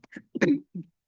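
A sneeze during a city council meeting: a short burst of throat-clearing and coughing noises, a few quick bursts with one louder central one, close by in a quiet room.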